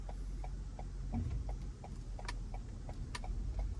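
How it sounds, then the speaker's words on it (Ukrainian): A car turn signal ticks quietly at an even pace over the low engine hum of a hybrid crossover, soft clicks spaced about every third of a second. "Чути тільки поворотник."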